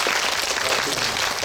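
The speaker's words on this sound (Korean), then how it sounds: "박수 한번." An audience bursts into applause at a film screening talk at COEX Megabox, a dense, steady clatter of many hands clapping close and loud throughout.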